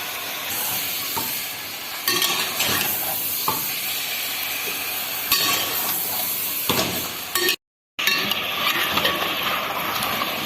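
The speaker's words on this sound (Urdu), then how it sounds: "یہ 2 کلو گوشت ڈال رہے ہیں۔ اس کو پہلے ہم اچھی طرح اس کے ساتھ بھون لیں گے۔" Two kilos of beef fry in oil with two tablespoons of ginger garlic paste for nihari, giving a steady close sizzle with stirring scrapes and clinks of a utensil, then a brief silent gap.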